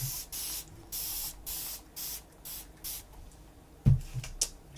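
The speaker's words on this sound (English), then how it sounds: "Spray some more rusted medium." A spray bottle mists rusted medium onto paper in a steady series of short, evenly spaced hissing bursts, close up. A few soft knocks and handling sounds follow near the end.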